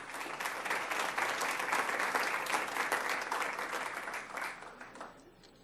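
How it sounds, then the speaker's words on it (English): Audience applause at an award recognition for excellence in Holocaust education: a full, sustained clapping from a crowd that holds steady, then thins and fades out near the end, somewhat distant and quiet. "Let's give her a round of applause."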